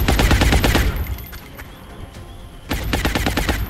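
Suppressive machine gun fire in the video game XCOM Long War: a rapid, loud burst, a quieter lull of lingering rumble, then a second burst of fast rhythmic shots.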